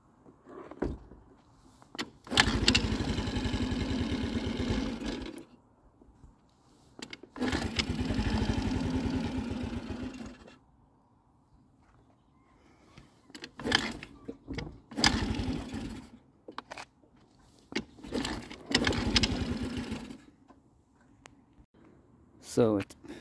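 A Baotian Comfort scooter engine, fitted with a replacement carburettor after running badly, revs in several uneven bursts that rise and fall between quieter gaps, recorded up close.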